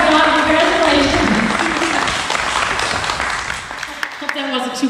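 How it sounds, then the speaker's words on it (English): Applause from an audience at a graduation ceremony, dense clapping that starts loud and gradually thins out, with voices mixed in underneath. "we're going to give a shout out and a little round of applause also for John."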